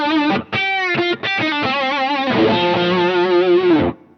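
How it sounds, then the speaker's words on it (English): Sustained electric guitar melody in a classic rock lead tone from a BOSS ME-80, with singing, bent notes and a light reverb tail, played alone with a brief gap near the start and ringing out at the end. "So let's turn the reverb on, small amount."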